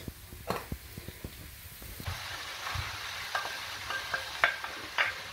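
Ground beef goes into a hot pan with chorizo and softened onion for chili con carne, stirred and scraped at first, then a steady close sizzle of frying with crackling pops.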